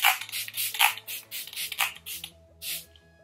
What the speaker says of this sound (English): I'm going to set with the Photo Finish Primer Water Spray